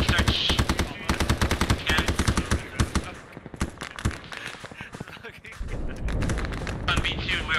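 Rapid automatic gunfire in the military shooter Arma 3, with loud, close bursts of machine-gun fire followed by sparser shots and distant rumble, and voices faintly present underneath.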